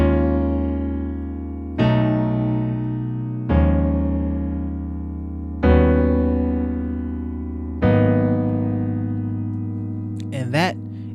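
Piano chords from the outro played slowly, five sustained chords struck one after another at even intervals, each ringing and fading, with a short voice sound near the end.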